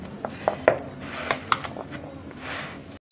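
Chana chaat is stirred together with finely chopped onions in a bowl, giving a few soft, scattered clinks and scrapes of a spoon against the dish, with no talking.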